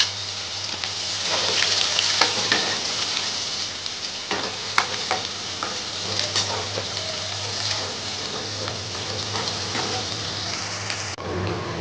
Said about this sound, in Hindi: अब हम 2 प्याज डालेंगे जो हमने बारीक बारीक काट लिए थे, और इसको भी हम अच्छी तरह से भूनेंगे।